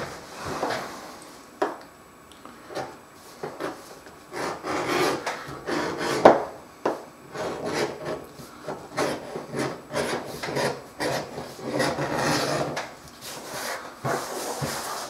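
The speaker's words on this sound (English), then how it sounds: "The next thing we're going to do is just bevel up the edges." Leather edges of a handmade coin purse being beveled by hand, giving a run of short dry scraping and rasping strokes in an irregular rhythm, close and moderately loud, with no talk.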